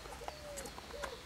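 Young long-distance racing pigeons coo softly in a loft, a couple of faint, brief low calls over a steady quiet background hum.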